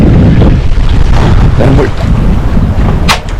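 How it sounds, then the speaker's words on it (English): Strong wind roars across the microphone aboard a sailboat under way in gusts near 30 knots, with rushing water and waves against the hull underneath, loud and steady throughout with a brief sharp hiss near the end. "Now the wind has arrived and we are doing like 8, sometimes 9."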